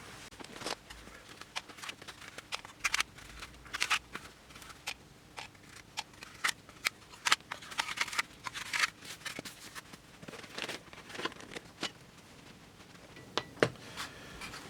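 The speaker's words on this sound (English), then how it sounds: "now the glue up is dry and we can take off the elastics and the pins" Elastic bands and pins come off a glued balsa model aircraft wing, giving scattered small clicks, snaps and light rustles at close range, irregular and fairly quiet throughout.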